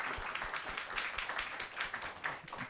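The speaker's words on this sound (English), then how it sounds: "Big round of applause for Shaminder." An audience at a quiz show applauds a contestant, with a brief, moderately loud patter of clapping from a mid-sized crowd and no talking over it.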